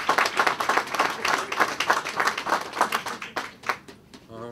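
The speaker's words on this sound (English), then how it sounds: "Round of applause." Applause at a college ribbon-cutting ceremony comes as a lively, slightly uneven patter of many hands, fading out at the end just as a voice begins.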